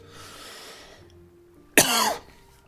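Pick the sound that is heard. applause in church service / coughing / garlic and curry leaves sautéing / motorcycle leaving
coughing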